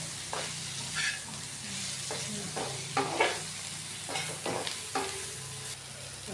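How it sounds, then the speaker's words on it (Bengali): Onions fry in oil in a pan with a steady sizzling hiss, broken by occasional scrapes and stirs, for a soybean curry. "পেঁয়াজটা আমাদের ভাজা হয়ে আসলে পর"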